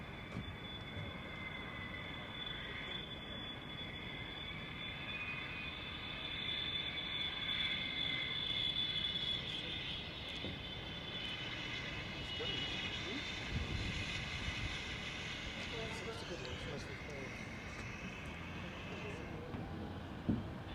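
Boeing 777X taxiing at the Farnborough airshow, a steady, loud jet-engine whine and roar held throughout at a fair distance, with people talking underneath.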